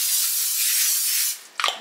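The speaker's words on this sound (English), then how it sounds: "I'm just gonna spray it." Cooking spray hisses steadily onto food being seasoned with rosemary and salt. It gives one loud, continuous spray that stops abruptly, followed by a brief clatter.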